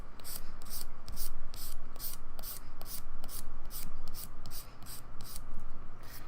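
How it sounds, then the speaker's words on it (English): A hand file buffs fingernails during a dip manicure, with brisk back-and-forth rubbing strokes repeating in a steady rhythm, close and fairly loud, with no voices. "Now to buff them out with the hand file, you're just going to go down the one side and buff them down the other side."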